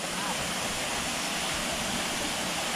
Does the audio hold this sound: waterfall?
yes